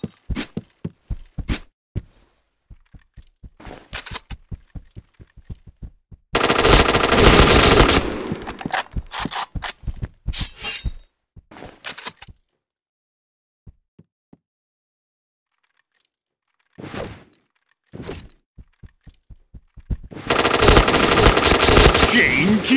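Rapid bursts of T77 automatic gunfire in the Point Blank shooter game, loud and close, with short rattling volleys separated by gaps and two long sustained bursts of continuous fire.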